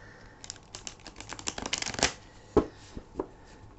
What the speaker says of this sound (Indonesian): di sini kita sudah ada satu pile kartu. Aku akan langsung segera shuffle